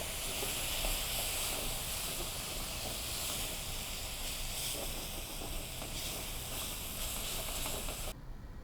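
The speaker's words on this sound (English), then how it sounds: "add a little sherry wine. Helps deglaze the pan, pulls all that good flavor off the bottom of it" Sherry poured into a hot pan of mushrooms for deglazing gives a steady, close hiss and sizzle that holds evenly throughout, with no talking.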